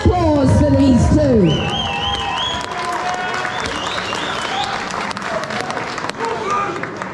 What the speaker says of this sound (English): Let's have a big round of applause for these two.